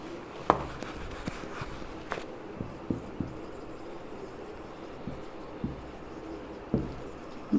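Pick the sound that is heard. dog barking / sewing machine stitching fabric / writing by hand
writing by hand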